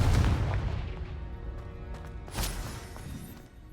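Explosive blasts from Confringo fire spells in the Hogwarts Legacy video game, a dense rumbling barrage with a sharp louder burst midway, continuous booms without speech.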